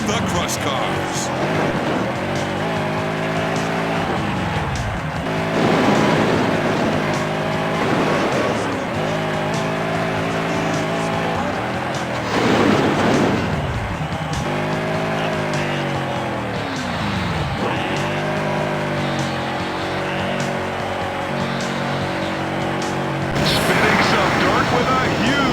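The Bulldozer monster truck roars through a Monster Jam freestyle run in Orlando, crushing cars, with repeated surging engine revs and falling pitch sweeps, loud and close, under an arena announcer's commentary.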